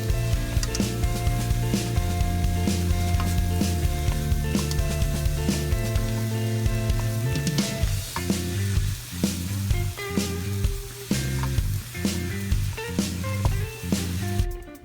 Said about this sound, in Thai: จากนั้นผัดต่อไปอีก พอให้ใบกะเพราสุกเล็กน้อย